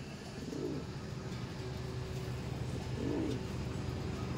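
Pigeons kept by a breeder in Bengal give two soft, low coos a few seconds apart, fairly faint against a steady background hum.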